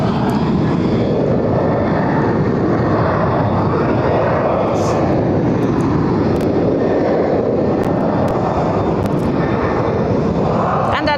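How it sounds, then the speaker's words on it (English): A Singapore Airlines Airbus A350-900 jet rumbles steadily and loudly at close range, a broad continuous engine roar with a faint voice beneath it. "It should be Singapore Airlines A359."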